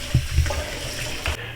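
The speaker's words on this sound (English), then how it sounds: "put it into a strainer and run hot water over it" Hot tap water running over ground beef in a strainer at a kitchen sink, a steady close splashing with a few soft knocks, no talk.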